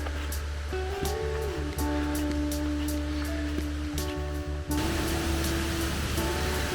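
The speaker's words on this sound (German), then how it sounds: "Und nach dem Regen kommt da natürlich ein ganz schön Wasser runter." Mountain stream near Schleching in the Bavarian Alps, swollen after rain, gives a steady loud rushing roar of water throughout, with a broad continuous wash that grows fuller toward the end.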